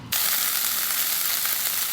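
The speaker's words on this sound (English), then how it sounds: "add in your carrot and your potato and stir fry those for about," Carrot and potato stir frying in a hot pan for a nikujaga stew: a loud, steady close-up sizzle that begins abruptly and continues unbroken, with no voices.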